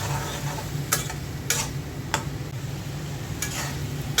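Eggplant and hog plum frying in a pan for a curry, with a soft continuous sizzle and a low hum beneath it, and a few crisp scrapes of stirring scattered through.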